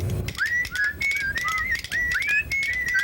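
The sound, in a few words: person whistling a tune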